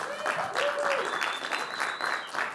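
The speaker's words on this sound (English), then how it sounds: "the round of applause you did hear was from our artists" A live show audience gives a round of applause for an artist, a short burst of clapping with a whistle-like tone and crowd voices threaded through it.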